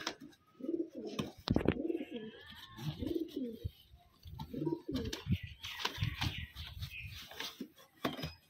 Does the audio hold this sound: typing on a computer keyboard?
no